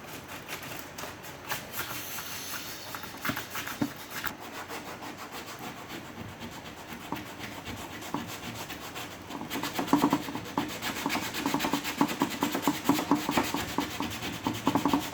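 Hand sanding of fairing filler on a Force 5 sailboat mast step repair: a steady, close scratchy rubbing that runs throughout and grows louder and more vigorous in the last few seconds.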